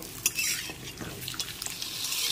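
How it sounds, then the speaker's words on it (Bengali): Sliced pointed gourds (potol) frying in hot oil in a pan, stirred with a spatula: soft scraping and clinking of utensil against metal over a low, steady sizzle, close by with no talking. "তেলটা গরম করে নিয়েছি, এবার আমি পটলগুলোকে দিয়ে দিচ্ছি। এবার হালকা করে একটু নেড়ে চেড়ে নিতে হবে।"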